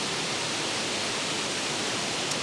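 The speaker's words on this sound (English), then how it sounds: "but it's a waterfall you can always rely on." Steady broadband roar of a Wicklow waterfall, a dense continuous rush of falling water heard alone with no voices, even and unbroken throughout.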